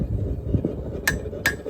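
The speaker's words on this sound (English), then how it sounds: "Now I'm using the horn of my anvil to bend that whole blade downwards a little bit." A knife blade forged from a 200-year-old horseshoe is bent over an anvil horn, with two sharp, ringing metallic hammer blows about half a second apart over low workshop rumble.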